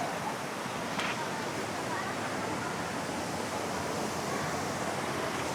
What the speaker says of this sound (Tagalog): Hindi naman sobrang lakas ng ng tubig.